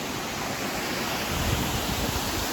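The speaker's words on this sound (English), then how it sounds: "This waterfall feeds the little creek or river that you follow along the whole time." A waterfall feeding a small creek along a hiking trail in Japan gives a steady, dense rushing roar, constant and fairly loud with no voices over it.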